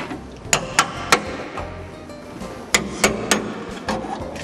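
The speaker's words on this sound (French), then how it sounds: "On les entend, les points qui lâchent." A flat chisel is hammered against a welded car body panel to break its spot welds. About seven sharp metallic strikes land in two irregular bursts, close and loud, over a low background hum.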